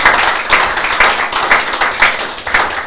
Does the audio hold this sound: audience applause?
yes